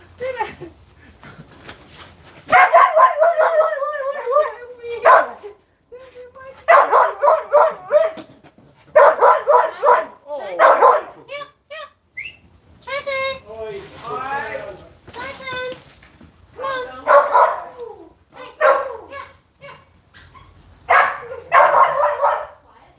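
Dog barking in repeated bursts of loud, close yaps and excited whimpers at home, broken by short pauses, with someone talking between and over the barks.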